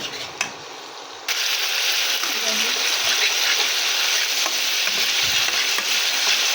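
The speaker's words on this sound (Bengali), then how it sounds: "সবটা একটু ভালোভাবে ভেজে নেব" Ingredients for an egg and potato curry, including a garlic paste, hit a hot pan and break into a loud continuous sizzle close up, with brief stirring clinks and a voice speaking lightly underneath.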